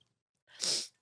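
One short, sharp human sneeze, close and fairly loud, bursting out of near silence after a brief inhaled build-up.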